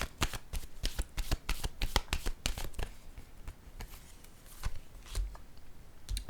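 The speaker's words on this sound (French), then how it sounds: "Je vais déposer une autre carte ici." Tarot cards being shuffled and handled on a table, a fast run of crisp riffling flicks followed by sparser, softer card taps and slides, close and fairly quiet with no talking.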